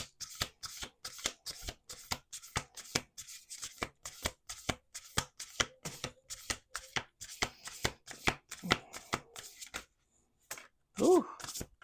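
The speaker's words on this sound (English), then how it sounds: "Let's do 2 more shuffles." A deck of oracle cards is shuffled with a quick, regular riffle of crisp papery snaps, close and fairly soft, and the run pauses near the end before a brief murmur.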